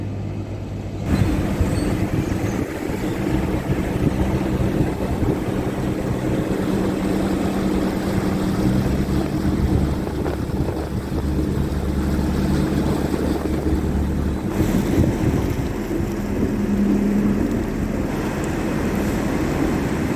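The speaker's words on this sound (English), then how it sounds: "So, there goes Nikki's boat" A steady low engine drone of a motorboat running on the water, continuous for the whole stretch with a faint shift near the end, no voices.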